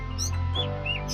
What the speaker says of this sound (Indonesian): Yang kelima adalah murai batu.